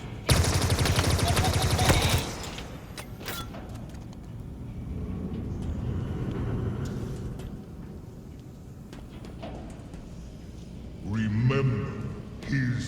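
Needler weapon firing in Halo Infinite, a dense rapid burst of shots at the start followed by scattered small pops and explosions under continuous game sounds and speech.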